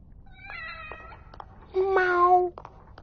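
A cat in the horror game The Evil Within meows twice, a thin first call followed by a louder, longer meow, over a low dark ambient hum.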